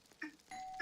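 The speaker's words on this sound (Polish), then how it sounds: "No kto do cholipki dzwoni w te głupie drzwi?" A doorbell rings inside a Roblox game, a short two-tone chime that sounds twice in under a second, the second ring brighter and louder, heard alone without talk.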